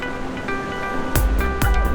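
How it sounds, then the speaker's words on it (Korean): Ocean waves at a Gangneung beach roll and break in two loud, close crashes over a steady background wash of surf, with no talk. "우와 파도 봐"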